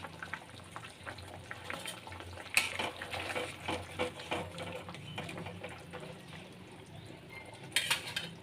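Eggplant pieces go into a pot of frying fish curry with potatoes, giving soft sizzling and clinks of a utensil against the pan, with no talking.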